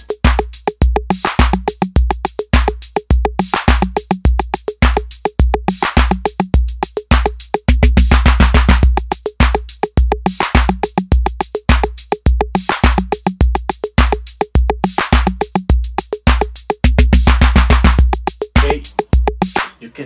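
A steady Recodrum drum machine pattern loops throughout, with punchy kicks, crisp snare hits and claps in a tight repeating rhythm, loud and up front.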